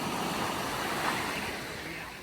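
Gentle waves wash steadily onto a calm Caribbean beach in Grand Cayman, a soft continuous surf hiss with faint wind, no distinct breaking crashes and no talking.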